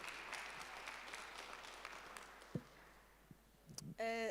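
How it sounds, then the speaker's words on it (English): Faint, scattered applause from an audience at a youth business breakfast as a guest speaker comes forward, thinning out before a voice begins at the end. "Can we have a round of applause for her as she's coming here?"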